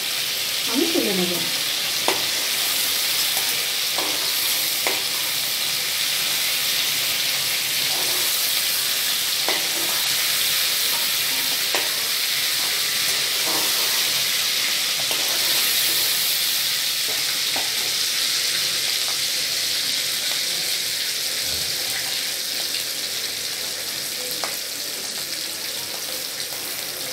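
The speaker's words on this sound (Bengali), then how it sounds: "চিংড়ি মাছ খুব নরম মাছ বলে বেশি কড়া করে ভাজবো না।" Prawns frying lightly in oil give a continuous, even hiss with faint crackles and occasional soft pops, close and steady for the whole stretch, with no talking.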